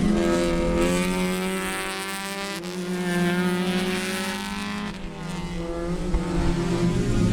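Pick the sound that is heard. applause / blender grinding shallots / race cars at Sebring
race cars at Sebring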